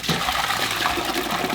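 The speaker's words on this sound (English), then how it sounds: "I'm gonna go ahead and pour in our onion juice" Onion juice pours into a cooking pot with a continuous splashing, gurgling flow, close and fairly loud for its short duration.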